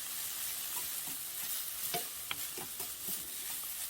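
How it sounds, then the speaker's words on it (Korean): Mushrooms stir-frying in a pan for japchae made with dried radish, a steady sizzle with scattered scraping and clinking as they're stirred, close and continuous. "버섯도 같이 볶아줍니다."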